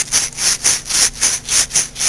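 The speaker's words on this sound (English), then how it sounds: "180 grit. And I just kind of wrap it around the armature like this." Fine 180-grit body sandpaper is wrapped around a Briggs and Stratton starter armature and twisted back and forth, making loud, close, rhythmic rasping strokes about four times a second with no talking.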